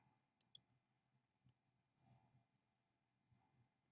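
Two quick, crisp computer mouse clicks close together near the start, followed by a few fainter, scattered clicks in a quiet room while operating test-building software.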